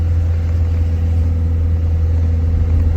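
A Land Rover 110 with the 200Tdi diesel engine drives steadily, its low engine rumble and road noise loud and constant throughout, with no talking.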